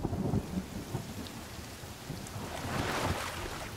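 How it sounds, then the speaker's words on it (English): Rain and rolling thunder in the survival game The Forest, a steady wash of rainfall with low rumbles, swelling louder toward the end, with no voices. "See, it's raining right now."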